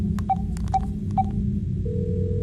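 A telephone being dialed in the video game Dark Fracture: three short, evenly spaced key tones, followed by a steady, sustained tone over low background noise.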